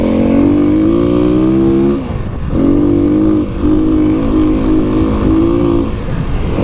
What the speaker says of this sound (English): I was pretty excited to take the KX out, get it in its natural habitat,